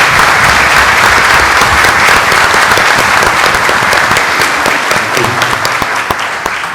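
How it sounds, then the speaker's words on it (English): A crowd at a La Joya school board meeting gives a loud, sustained round of applause honoring two trustees for their years of service, the dense clapping holding steady and easing only slightly toward the end. "A big round of applause for both trustees for their years of service"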